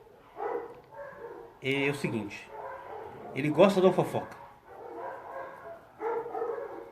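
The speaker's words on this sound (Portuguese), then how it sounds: "os cães da rua latem e ele vai latir junto, porque ele quer participar da conversa" A small pet dog barks in short bursts, close by, between stretches of a person talking, with further barking breaking in over the speech.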